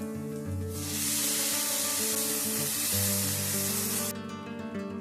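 Loud, steady sizzling and hissing of ground tomato puree hitting a hot pan, continuous for several seconds, with no talking.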